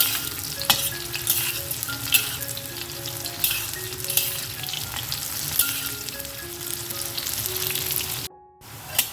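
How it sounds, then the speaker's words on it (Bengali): Bitter gourd pieces fry in hot oil in a pan with a continuous loud sizzle, broken by occasional stirring scrapes and clatters and a brief gap near the end. "তাদের জন্য আমি উচ্ছেটা একটু ভেজে নিলাম"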